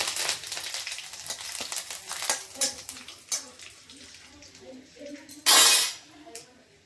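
Cumin seeds and curry leaves sizzle in hot oil in a pan, a crackling fry with occasional utensil clinks, then a sudden loud burst of sizzling near the end.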